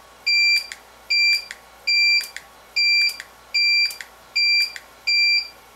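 An Elinchrom Style RX 300 studio strobe fires repeatedly, each flash followed by a clear electronic recycling beep, making seven evenly spaced beeps under a second apart, loud and close with no speech.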